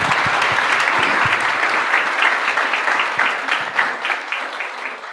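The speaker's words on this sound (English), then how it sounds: "A warm round of an applause." A room of guests at a high-tea book discussion gives a warm round of applause, loud sustained clapping that thins out and fades toward the end, with a few individual claps standing out.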